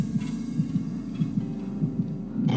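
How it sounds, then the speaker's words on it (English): A killer's heartbeat in Dead by Daylight thumps in a low, steady throbbing pulse under a hum, with a brief sharper noise at the very end. "Ooh, I hear the heartbeat coming."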